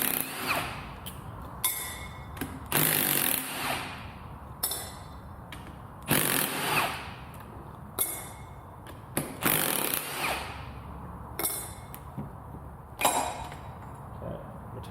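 Hand tools and a power driver work loose the bolts on the retainer plate of a Lotus Exige S2 C64 gearbox during a teardown: repeated bursts of ratcheting and whirring, with metallic clinks between them, loud and close.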